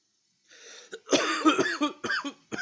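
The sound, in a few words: cough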